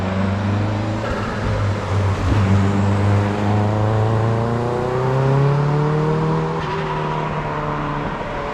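Lancia Delta HF Integrale Evolution engine pulls steadily at close range, its tone rising and falling smoothly through gear changes across the whole stretch, with no talk over it.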